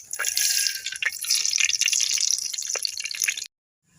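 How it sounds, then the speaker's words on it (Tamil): Oil is poured into a hot clay cooking pot while fish curry is being prepared, giving a bright continuous sizzling, crackling hiss for about three and a half seconds before it cuts off abruptly. "சட்டி காய்ஞ்சிட்டு எண்ணெய் ஊற்றிக்கலாம்"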